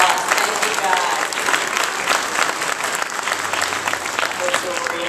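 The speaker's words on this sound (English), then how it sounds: "let's give our fifth grader orchestra, All-Star Orchestra, another round of applause" A concert audience applauds a fifth-grade school orchestra with loud, steady clapping that carries on throughout, with a voice briefly audible beneath it.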